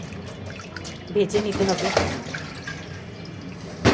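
Rohu fish pieces are washed in water in a home kitchen: soft sloshing, dripping and trickling close by, with someone talking over the splashes throughout.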